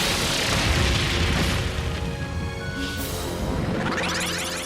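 In the video game Trails of Cold Steel III, the Brionac weapon fires with a loud, deep booming blast that rolls into a sustained explosive roar, with a swelling rush toward the end.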